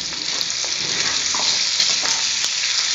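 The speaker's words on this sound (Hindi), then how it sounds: "अब जो कटे हुए प्याज हैं मैंने काटे हैं वो इसी में डाल" Chopped onions fry in a pan with a loud, steady close sizzle and scattered crackles and stirring clicks, with no voices.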